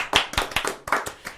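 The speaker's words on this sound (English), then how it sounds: "I think that deserves another little round of applause," A small round of applause on a radio show, a few sparse hand claps in an irregular rhythm, close and distinct with quiet gaps between them.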